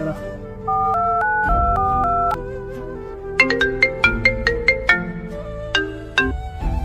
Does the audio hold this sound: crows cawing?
no